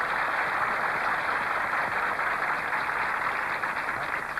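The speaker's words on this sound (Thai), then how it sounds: "ขอเสียงปรบมือให้เขาอีกสักครั้งหนึ่งครับ" Studio audience applause on a Thai talk show: a dense, steady wash of clapping at full level throughout, with no gaps or voices above it.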